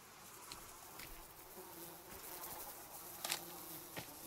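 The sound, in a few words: swarm of flies buzzing in the video game Sons Of The Forest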